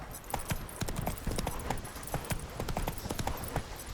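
Horse hooves galloping in The Witcher 3, a steady rapid clip-clop rhythm over dirt, close and continuous, with faint ambient game sound beneath.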